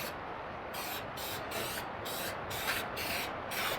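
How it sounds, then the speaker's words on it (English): Cooking oil from an aerosol can sprayed onto a turkey roasting pan at a campground, a run of short hissing bursts in quick rhythm, close and steady with no talking. "Good coating of oil on the bottom of it."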